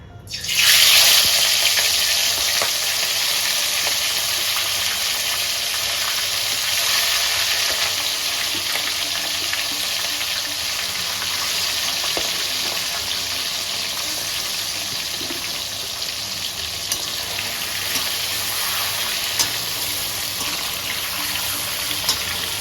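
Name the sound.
prawns frying in hot oil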